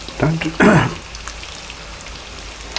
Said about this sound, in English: And while the fish is frying, please go and subscribe.